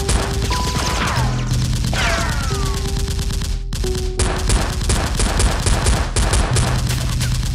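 Toy Nerf blasters firing in a staged SWAT-style fight, a busy clatter of repeated pops and smacks layered over tones and music-like hum, loud and continuous with no clear pauses.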